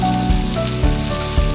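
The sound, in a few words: onions sizzling in a pan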